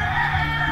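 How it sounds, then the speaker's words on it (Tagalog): A rooster crowing in a sustained, strained call, moderately loud and steady for its short length with no other sounds. "maririnig mo rito mga tilaok ng manok, nakakatuwa."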